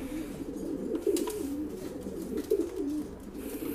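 Domestic pigeons in a loft, a breeding female among them, give soft, low cooing calls close by, two throaty bursts rising and falling with light rustling between.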